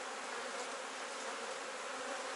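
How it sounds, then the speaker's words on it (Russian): Honey bees buzz around an open beehive full of young bees and brood: a dense, steady, fairly close droning hum with no pauses and no voices. "пчел много, они уже, пчелки выходят молодые"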